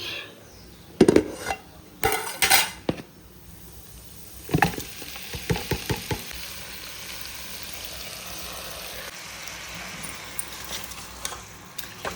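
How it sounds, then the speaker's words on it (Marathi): Oil, onion and tomato cook in a pan: sharp utensil clatters and scrapes come in bursts during the first six seconds, then a steady low sizzle carries on with a few scattered taps, close by and with no talking. "आतां फास्ट हांव हितून आतां पियाव आनी टमाट घालता. तेजे पयलीं घालता तेल"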